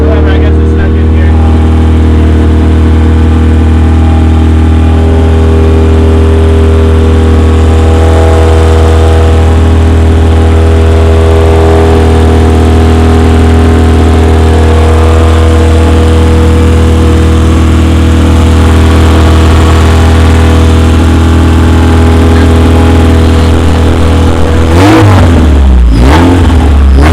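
A just-started small engine, apparently a lawn mower, runs loudly and steadily at idle for most of the span with a strong low hum, then revs up near the end; voices talk over it.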